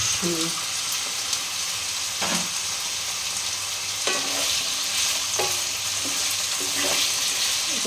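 Carrots stir-fried in a pan for spicy semolina pulao: a steady close sizzle with repeated spoon scrapes and knocks against the pan, plus a faint voice in the background.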